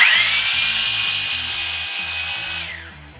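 A Southwire Maxis 6000LB cable puller drives cable with a loud, steady motor whine and rhythmic mechanical chatter, running close and alone before winding down near the end.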